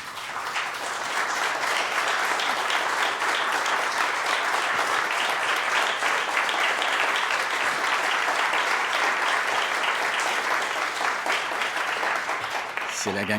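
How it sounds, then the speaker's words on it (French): Supporters from Longueuil applaud steadily at a Quebec political press conference, a dense, sustained wash of clapping from a nearby crowd that holds for the whole stretch and fades only at the very end. "C'est la gang de Longueuil qui applaudit, là."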